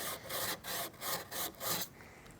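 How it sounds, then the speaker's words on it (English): Light rhythmic rasping of sandpaper on wood, about six quick strokes in a row, close and fairly quiet. "we're going to highlight these gouge marks with a little bit of light sanding too"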